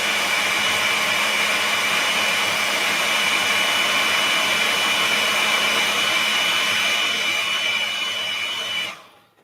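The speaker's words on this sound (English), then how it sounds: "I'm just going to lightly dry this off with a hairdryer" A hairdryer blows steadily at close range to dry wet paint in a cactus terrarium, a constant whooshing whine that runs for several seconds before switching off at the end.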